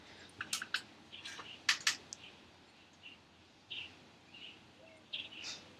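A baby bird left in a driveway gives faint, scattered high chirps in short clusters, with a few sharper tweets near the start and soft ones later over quiet background noise.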